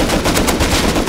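Rapid automatic gunfire in the survival video game Rust, a loud, close burst of shots packed tightly together.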